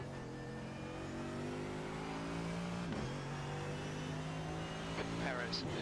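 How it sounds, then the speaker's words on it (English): Race car engines drone steadily in iRacing at the 12 Hours of Sebring as a faster class car approaches. The sustained, harmonic whine dips and shifts pitch midway, with faint voices underneath. "There's a faster class car approaching."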